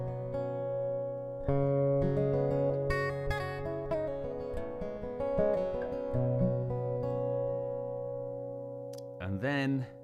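An acoustic guitar played through a preamp, EQ and reverb pedal chain, sustained strummed chords ringing with a lush reverb tail, then a short burst of fresh strumming near the end.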